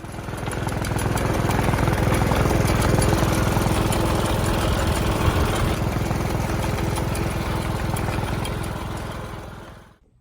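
Wheel Horse garden tractor engine dragging a cultivator as a rake over food plot ground, a steady mid-pitched mower-like drone with rattly chatter that holds for about ten seconds before cutting off abruptly.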